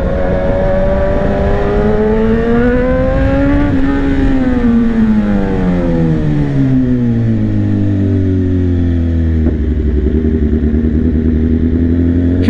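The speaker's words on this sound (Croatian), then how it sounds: "Čak sam čuo i ovaj motor sa tvorničkim auspuhom, dosta glasan." A 2018 BMW S1000RR motorcycle with its factory exhaust runs loud and close, the engine note climbing through a rev and then sliding steadily lower in pitch as it settles into a deep, even drone.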